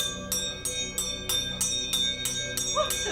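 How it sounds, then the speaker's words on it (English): A bell strikes steadily, about eight evenly spaced clangs with ringing overtones, loud and close, sounded as an alarm in a castle at night. "Ring the alarm bell!"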